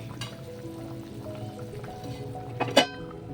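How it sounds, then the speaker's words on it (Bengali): A metal lid clinks onto a pot of simmering cauliflower and potato curry near the end, one sharp clatter above a soft, steady bubbling sizzle in a home kitchen. "এবার ফুটে গেলে আমি ঢাকনা চাপা দিয়ে দেবো"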